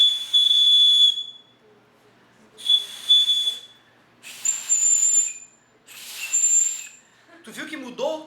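A high, steady whistling tone comes from blowing air through an open tube. It sounds in four separate blows of about a second each, and its pitch shifts upward on the last two. A brief voice follows at the end.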